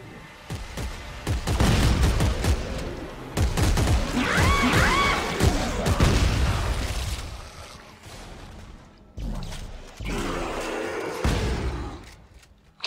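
Shotgun blasts and heavy gunfire in the sci-fi horror game Dead Space 3, a dense run of loud repeated shots with crashing impacts, a short lull, then more firing.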